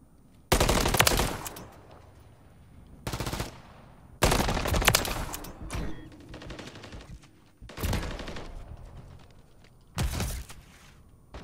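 Video game gunfire on a sub base hardpoint map comes in five loud, separate automatic bursts with quiet gaps between them, each a sharp, rattling volley.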